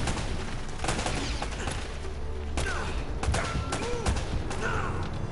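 Gunfire in the Uncharted action game, with sharp shots and rattling bursts over a steady roar of battle noise, near and loud throughout.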